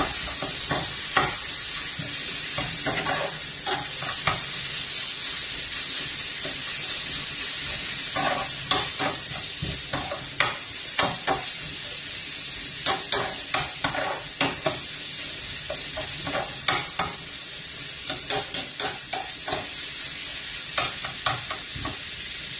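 Cooked rice stir-fried with garlic in a pan, a continuous sizzle with repeated sharp scraping and tossing clicks from a spatula, clustered in bursts, close up and without talking.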